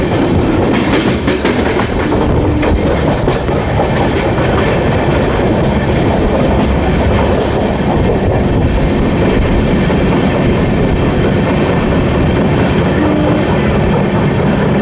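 A WAP7 locomotive-hauled train arrives at speed on the main line at Durg station, a loud continuous rumble of wheels and rolling stock with steady clickety-clack throughout, no voices.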